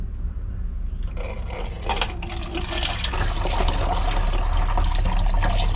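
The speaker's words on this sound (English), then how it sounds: "I attempt to pour it into the container without causing a big problem" Liquid pours from a container into another during a boat refit, a steady continuous splashing flow that builds slightly louder toward the end, with no talking.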